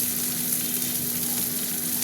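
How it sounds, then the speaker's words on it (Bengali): Onions frying in a pan give a steady, close sizzle with a faint constant hum beneath it and no talking. "দেখো পেঁয়াজটা একটু ভাজা ভাজা হতে থাক।"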